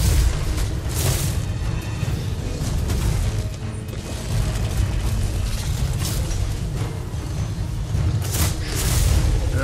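Cannon fire booms through a German-language fantasy video game battle as a cannon knocks an enemy down, heavy low rumbling blasts and crashes running continuously at loud, dense volume.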